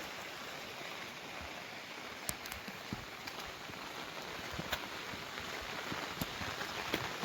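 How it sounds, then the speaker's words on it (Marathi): Rain falls near a bus stop in Devgad on the Konkan coast, a faint, even hiss with scattered sharp drip ticks throughout, with no one speaking. "पाऊस पडतोय बघा"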